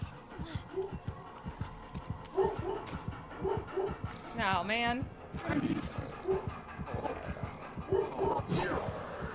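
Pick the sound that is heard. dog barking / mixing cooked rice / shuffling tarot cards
dog barking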